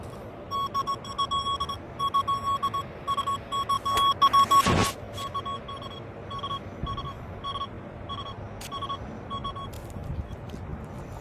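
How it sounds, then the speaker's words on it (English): Metal detector sweeping over a ring on Fort Lauderdale beach sand, giving steady repeated electronic beeps in a regular rhythm with a sharp louder burst midway, close and fairly clear over faint background noise, no talking. "You're going to hear a double beep."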